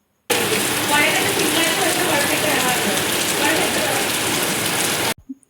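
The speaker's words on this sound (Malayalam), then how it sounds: "അതിൻ്റെ ഇടയ്ക്ക് മഴ പെയ്തു." Rain falls steadily in a broad, close hiss of water pattering and splashing on surfaces, holding an even level for several seconds before cutting off abruptly into silence.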